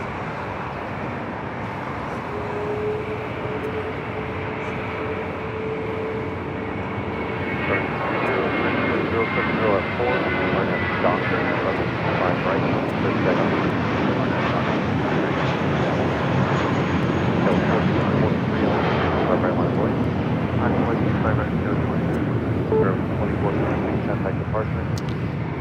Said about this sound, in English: we got that Spirit flight heading to Dallas, Fort Worth, Texas. A320 now taking off.